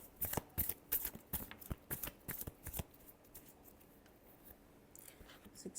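A deck of tarot cards being shuffled close by, a quick run of crisp riffling flutters in rhythmic bursts that thin out into quieter soft handling sounds.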